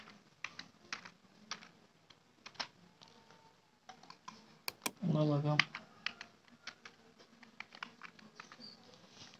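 Typing on a computer keyboard while working in Photoshop: irregular clicks and taps through the clip, with a short burst of speech in the middle.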